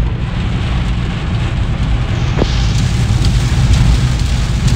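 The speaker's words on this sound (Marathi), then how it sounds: "गुजरातला एंट्री करायच्या आधीच एवढा पाऊस लागलाय" A steady, loud downpour of night rain drums and hisses without a break on the way toward Gujarat, with a low vehicle rumble beneath it and no speech.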